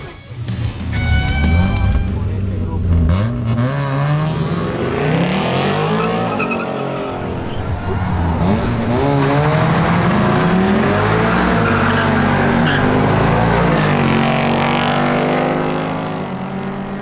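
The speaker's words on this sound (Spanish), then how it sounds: "El turno ahora es para Luis Vélez en su nuevo Ford Mustang GT." A new Ford Mustang GT accelerates hard in a timed drag-style run against the clock, its loud engine note climbing steadily through several gear changes and holding close and strong for the full stretch, with no talk over it.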